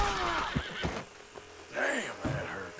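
A horse in the Red Dead Redemption 2 video game neighs in a couple of short whinnies, mixed with game sounds and someone talking.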